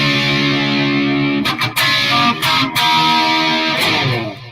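Distorted electric guitar rhythm part with reverb panned hard to one side, played loud and alone as sustained chords with a few sharp breaks between strums.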